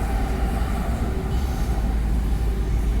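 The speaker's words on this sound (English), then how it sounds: "Oh, there goes train." Small train hauled by two engines rolling past at close range, a continuous heavy rumble and rail noise with no break over a few seconds.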